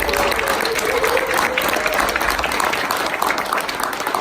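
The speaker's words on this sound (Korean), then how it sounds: "위원장님께 큰 박수 부탁드립니다" Sustained applause from a crowd at a talk show during the finale event of a Seoul film festival, a steady dense wash of clapping that runs loud and unbroken throughout.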